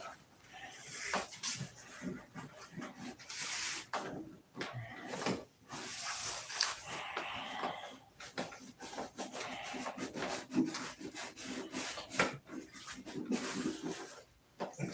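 Painter's tape lines being rubbed down firmly by hand, a repeated dry scraping and rasping in uneven strokes close to the listener, with brief pauses between passes and no talking.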